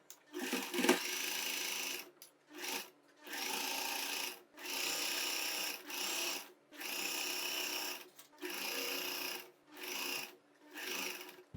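A sewing machine runs in repeated bursts of rapid stitching with short pauses between, sewing a side pocket on a churidar, close and clear with no talk.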